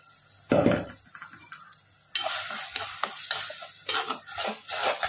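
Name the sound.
ground tomato paste added to sautéed onions, sizzling in pan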